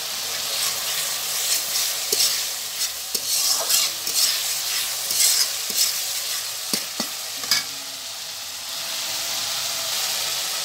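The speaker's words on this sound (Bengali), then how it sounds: "এখন এই মশলার ভিতরে মাছগুলা দিয়ে মাছগুলা কষিয়ে নামিয়ে নেব।" A pan of spices for fish curry, with turmeric, salt, coriander and cumin powders and green chilies, sizzles and fries steadily while a utensil scrapes and clicks through the mixture in irregular taps.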